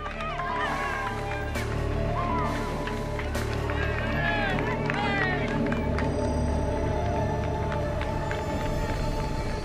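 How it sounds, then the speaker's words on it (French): A roadside crowd in the Pyrenees cheers and shouts as Tour de France 2001 riders pass, a dense continuous roar of many voices with scattered whistles and claps throughout. "La foule des Pyrénées se presse sur le passage des champions"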